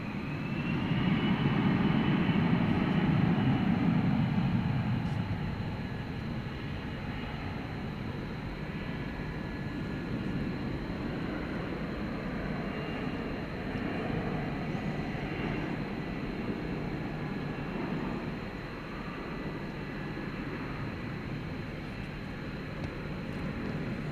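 A Qantas A380 airliner taking off at DFW Airport gives a strong, steady jet-engine roar that swells loudest early on, then settles into a sustained, slightly softer rumble with no talk over it.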